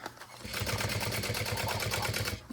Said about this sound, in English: I'm going to back stitch right there.